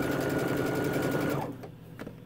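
Close, steady run of a sewing machine tacking down a backpack's top flap seam within the seam allowance, a fast even stitching hum for about a second and a half, then stopping into quiet with a couple of small mechanical clicks.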